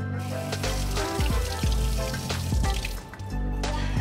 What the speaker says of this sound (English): So now we're gonna rinse this piece of fish.